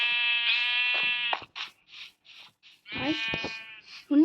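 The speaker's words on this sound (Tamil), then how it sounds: "டேய் ஆட்டுக்குட்டி, டேய் ஆட்டே, கொஞ்சம் நெல்லே இங்கே வந்து முழுங்கே." Sheep in the Minecraft video game bleat in loud, buzzy calls, several long ones and some short ones, with brief gaps between them.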